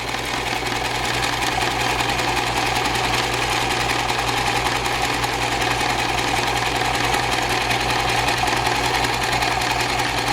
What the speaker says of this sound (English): I go forward, I push the button, and it goes backwards, and I go forward, and I'm just going to sew that all the way across.